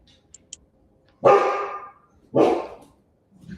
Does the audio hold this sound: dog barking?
yes